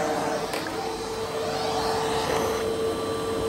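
A vacuum cleaner with only modest suction runs steadily nearby, a loud continuous whining drone with a constant tone and no break.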